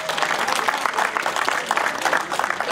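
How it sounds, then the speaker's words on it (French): A crowd claps for the GT1 class winner at the 2023 Turckheim-Trois Epis hill climb podium, a steady, dense patter of many hands lasting a few seconds with no voices over it. "Tenez un applaudissement s'il vous plaît pour Julien Schwab."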